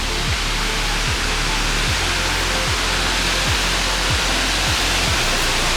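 Waterfall at the Krupajsko vrelo spring, a steady, loud, dense roar of falling water running unbroken throughout, close by, with no voices.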